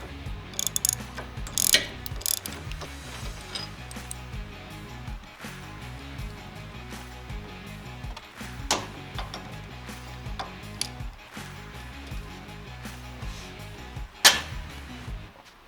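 Ratchet wrench working on cage bolts of a 2018 Polaris RZR XP Turbo UTV, with several bursts of quick clicking and short pauses between them, close and clear, with occasional metallic knocks.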